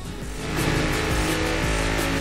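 Race cars in the Forza Horizon 4 video game roar at high revs in a loud, steady engine drone with shifting tones and faint tire noise, heard alone with no talking.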